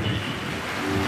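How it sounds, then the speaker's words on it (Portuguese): Rain beginning to fall, a steady soft hiss of drops with a low rumble underneath, continuous and moderately close. "A chuva começa a cair."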